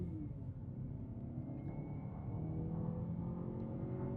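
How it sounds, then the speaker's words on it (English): A 2025 Mazda CX-50's engine drones steadily as it accelerates on a highway, heard from inside the cabin as a low continuous hum with slowly rising pitch and road rumble beneath. "Engine sounds good,"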